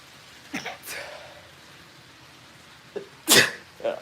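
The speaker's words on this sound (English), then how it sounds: "I have to sneeze here in a second." One sharp, loud sneeze bursts out near the end, after a few softer breathy sounds and a quiet stretch.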